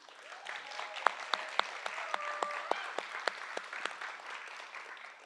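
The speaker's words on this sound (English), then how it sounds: "one more round of applause for the amazing cohort" Audience at an Artist INC Houston presentation night applauding the cohort, moderate clapping from a modest crowd with distinct individual claps popping out and a few faint voices.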